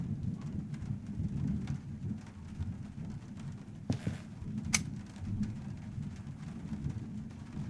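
Steady rain and low rumbling thunder fill an outdoor scene in the video game Trüberbrook, with a continuous wash of rainfall, a brief crack near the middle, and no voices.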